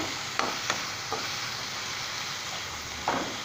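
Cabbage and tomato fry in a pan with a steady close sizzle, broken by a few sharp stirring scrapes and clicks of a spoon against the pan.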